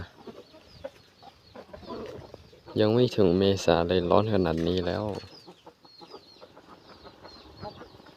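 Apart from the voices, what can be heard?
chickens clucking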